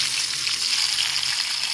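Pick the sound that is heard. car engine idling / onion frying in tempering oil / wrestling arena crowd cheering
onion frying in tempering oil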